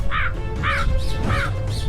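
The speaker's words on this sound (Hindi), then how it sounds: "कौवे नहीं मानते और उसको चोंच ही मारने लगते हैं।" Several crows cawing in a steady series of five harsh calls over a continuous low background hum.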